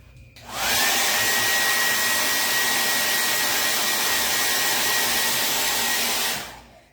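A hair dryer blows to dry fresh paint on a wooden porch sign, switching on with a rising whine, then holding a loud, steady rushing whoosh close by for several seconds before cutting off.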